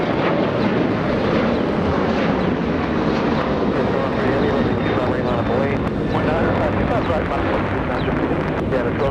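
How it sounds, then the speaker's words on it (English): An airliner on its takeoff roll at Los Angeles International Airport gives a steady, loud broadband jet roar throughout, with radio voices talking over it. "get ready, it's on its takeoff roll"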